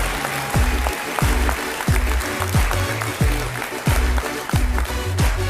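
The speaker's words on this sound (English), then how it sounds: "how about another round of applause for everybody behind the scenes?" Audience at a DeMolay International Congress session applauds together, a dense, sustained clapping with rhythmic unison beats running throughout, loud and close, with faint voices mixed in.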